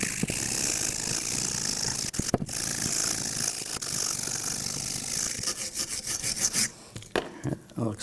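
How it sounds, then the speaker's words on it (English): A wire brush scrubs corrosion off the front brake caliper bracket of a 2006-2010 BMW 550i in quick, raspy back-and-forth strokes, close up and steady, with a few pauses and short bursts near the end. "We're going to use a wire brush and clean up any of the corrosion."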